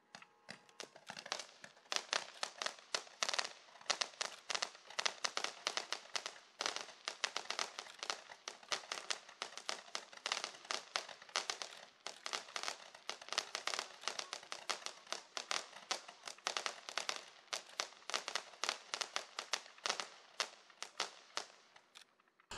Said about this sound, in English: Item number nine is Mini Blaster Roman Candle from Wind of Fireworks, pack 21s